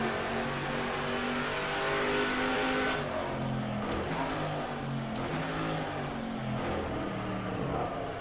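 A touring car from an Aussie Legends mod in the rFactor 2 racing game revs steadily. The engine note drops sharply as it shifts gear about three seconds in, then climbs again. The sound is close and continuous, with no talking.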